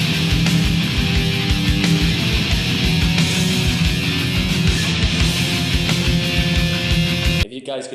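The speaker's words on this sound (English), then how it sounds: "You guys can hear that sort of bass in the background." A heavy metal song plays loud and dense, with a driving bass line under pounding drums and guitars, and it cuts off abruptly at the end.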